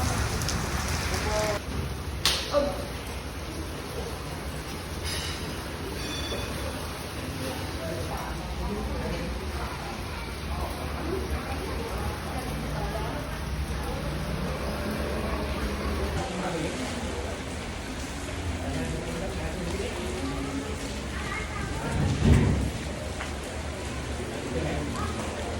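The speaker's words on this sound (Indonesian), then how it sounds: "Ya, cuaca hujan" Steady rain pours down at Pasir Panjang, Singkawang, a dense continuous hiss of drops on surfaces that runs the whole length, with voices talking faintly beneath it.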